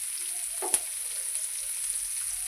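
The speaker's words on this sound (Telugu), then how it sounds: "ఈ ఆనియన్స్ అనేది గోల్డిష్ కలర్లోకి వచ్చేటప్పుడు ఫ్రై చేయాలి." Onions fry with salt in a pan on the way to golden, a soft, fairly quiet sizzle with one sharp stir or clink near the start.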